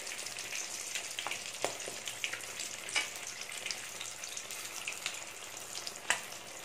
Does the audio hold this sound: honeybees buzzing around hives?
no